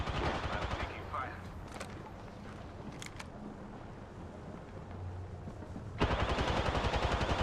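Rapid bursts of gunfire during an Apex Legends match, moderately loud and steady throughout with a dense burst at the end, mixed with game effects and a voice speaking.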